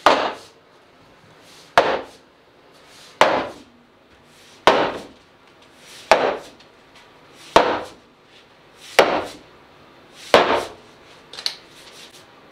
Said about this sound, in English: So just let the weight of the head of the axe hit the wood.